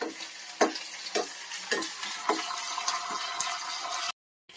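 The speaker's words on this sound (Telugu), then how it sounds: "బాగా ఫ్రై చేసుకోవాలి." Tempering spices for rasam fry in hot oil: dried red chillies, curry leaves, coriander seeds, cumin, mustard seeds and fenugreek. A steady sizzle runs under several scraping stirs of the pan, then cuts off abruptly.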